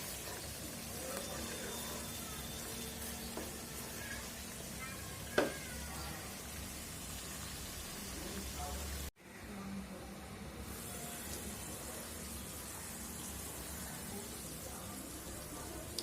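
Chicken roast frying in spice masala in a pan gives a steady, soft sizzle that cuts out briefly partway through and then returns at the same even level.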